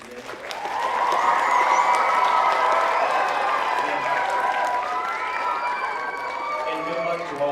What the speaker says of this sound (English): I want to give these contestants one more round of applause before we begin.